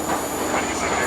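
Passenger train riding on rails on a heritage excursion, heard loud and close from on board: a continuous rumbling roar with faint rhythmic clatter of wheels over track joints and a thin high squeal above.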